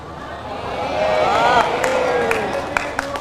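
An audience at an Islamic sermon cheers and claps in a loud, swelling burst, with scattered claps trailing off under a raised voice.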